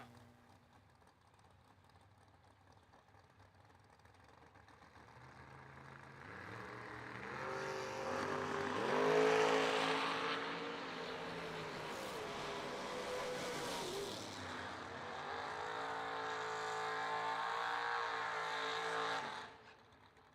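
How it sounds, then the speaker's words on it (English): Two drag race cars, an Olds Cutlass and an S10 pickup truck, launch off the line together, engines building from quiet to a loud sustained roar that holds for several seconds with shifting harmonics before cutting off. "Jason DeWitt left side, dials in 462 in the Olds Cutlass, 617 for April Prince in the S10 pickup truc"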